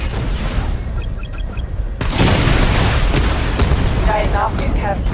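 Batmobile barrage explosions in the video game Batman Arkham Knight: a heavy rumbling boom erupts and rolls on as dense blasts, following a quieter stretch with soft electronic beeps.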